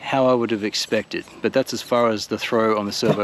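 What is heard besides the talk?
None of the usual background noises is heard.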